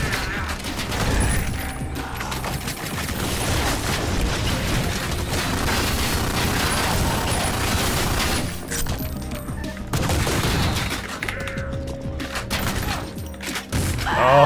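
Sustained barrage of gunfire and booming blasts in the retro shooter Ion Fury, loud and continuous over a busy game soundtrack with mechanical clanks, briefly dipping before resuming.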